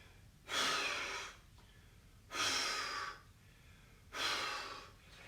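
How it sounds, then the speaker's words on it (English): Three forceful breaths blown out during a breathing exercise, each a loud, close, breathy rush lasting about a second, evenly spaced with quiet pauses between. "you'll then do 3 forceful out breaths"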